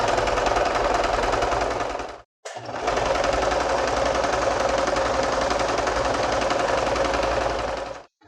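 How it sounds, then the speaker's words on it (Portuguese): A sewing machine runs in a long, steady stitching burst while sewing a hem on fabric for a kitchen craft. It whirs loud and close, cuts out for a brief pause, then resumes alone until it stops near the end. "Aqui eu posso costurar assim na parte da frente, porque vai ser só uma costurinha para unir essas duas partes."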